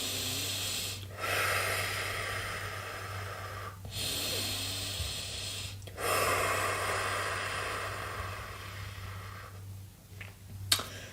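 Slow yogic breathing during Lamaze practice: long steady breaths in and out through the nose, about four close breath cycles with brief pauses, alone without talk.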